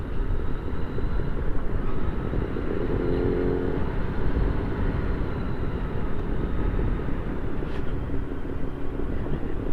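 An ATV rides along a mountain road in the Phu Thap Boek highlands, its engine giving a steady, continuous drone with road and wind rumble throughout, close and fairly loud.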